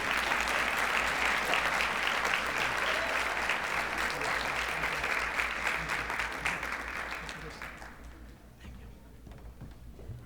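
A school luncheon audience claps for middle school students, a dense steady round of applause that thins and fades out over the last couple of seconds.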